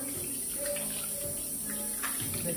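Water runs steadily from a bathroom tap into a sink, a close, continuous splashing hiss with faint clatter, no voices over it.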